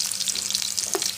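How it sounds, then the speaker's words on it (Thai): Shallots frying in hot oil, a bright, steady crackling sizzle with a brief stir scrape near the end, alone and close. "รอน้ำมันให้มันเดือดก่อนครับผม โอเคตอนนี้เราก็มาใส่หอมแดงก่อนนะครับ"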